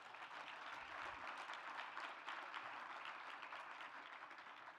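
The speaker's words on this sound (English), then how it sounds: "That's worth another round of applause." Sustained applause from a university audience honoring a Duke professor of African and African American Studies, a steady dense wash of many hands clapping throughout, fairly distant and even in level, with no talk.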